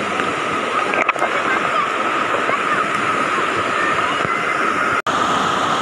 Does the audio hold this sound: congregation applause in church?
no